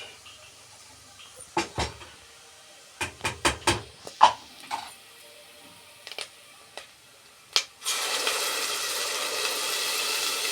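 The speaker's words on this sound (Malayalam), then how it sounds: "ഇതിലേക്ക് നമുക്ക് അരിമാവ് ഒഴിച്ചു കൊടുക്കാം" Rice batter for kalathappam poured into a pressure cooker heated on the stove: a few sharp utensil knocks and clicks, then a steady, loud hissing sizzle that runs to the end, with no talking.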